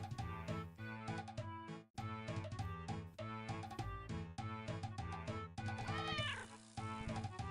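A cartoon cat meows repeatedly in a kitty video game, the short mews recurring over a rhythmic background music loop, fairly quiet overall.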